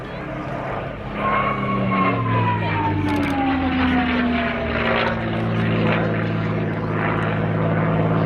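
A propeller aircraft flies over at the Cosford Airshow 2019, a loud, continuous engine drone whose pitch slides downward as it passes, with no pause across the whole stretch.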